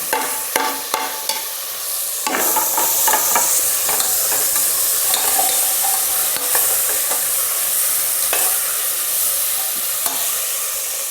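Tomatoes frying with carrots and beans in a pot for biryani, with a loud steady sizzle and scraping stirring strokes throughout, close and continuous with no voices.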